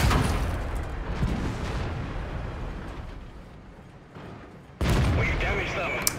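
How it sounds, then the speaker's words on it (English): Tank cannon fire in the World of Tanks video game, a T-90 shooting at a KV-5, heard as loud broadband booms and rumbling battle noise with a sharp blast near the end, under a speaking voice. "Good shooting on the T-90 on the KV-5."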